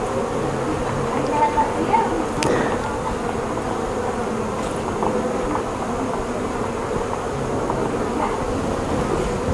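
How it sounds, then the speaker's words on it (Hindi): Honey bees swarm around beehive boxes on a beekeeping farm, making a dense continuous buzz that fills the air, with faint voices in the background. "सभी मक्खी इसकी गंध के अनुसार जो है ना अपने बॉक्स की पहचान करते हैं।"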